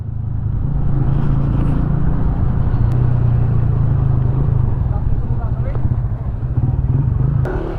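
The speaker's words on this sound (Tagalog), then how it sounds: "7 na motor." A group of seven motorcycles rides together on a mountain road trip, a steady loud engine rumble with low droning throughout, voices talking over the roar.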